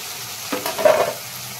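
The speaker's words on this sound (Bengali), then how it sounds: "আমি যে ভেজে রেখেছিলাম কপিটা ছেড়ে দেবো।" Pre-fried cauliflower for Kashmiri-style cauliflower drops into a hot pan and is stirred, giving a brief burst of sizzling and scraping that rises and fades within about a second.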